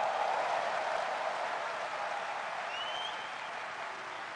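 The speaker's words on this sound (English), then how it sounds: "I thought the church is still clapping for the Lord" A church congregation claps during a worship service, producing a dense, sustained wash of applause that stays loud and gradually eases slightly toward the end, with no speech over it.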